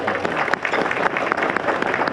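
Audience applause welcoming guests at a Republic Day celebration, a dense, steady patter of many hands clapping throughout, moderately loud, with faint voices mixed in.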